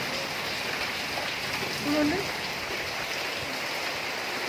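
Steady, dense hiss of heavy rain pouring down during a windstorm in Hyderabad, continuous and fairly loud throughout, with a brief faint tonal chirp partway through.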